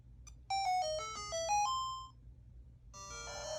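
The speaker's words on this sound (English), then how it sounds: "you get a little chime" A Game & Watch Legend of Zelda handheld plays a bright electronic chime, a quick run of clear stepped tones that ends on a held note. After a short pause, busier music starts.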